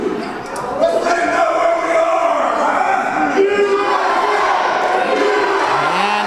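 A wrestling event crowd roars and cheers in a sustained wash of shouts and yells, loud and close, with a commentator talking over the noise.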